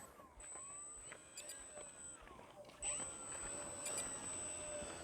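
A programmable RC radio transmitter set up for a HobbyZone Carbon Cub S 2 model plane gives thin, high chiming tones as the throttle passes a set percentage, heard against soft outdoor background noise.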